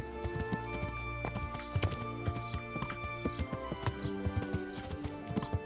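Horse hooves clip-clop in a quick, steady rhythm on a road in the medieval video game Kingdom Come: Deliverance, close and clear over faint background ambience.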